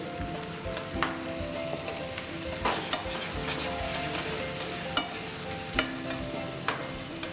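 Onions sizzle and crackle in hot oil, with occasional scraping stirs from a spoon against the pan.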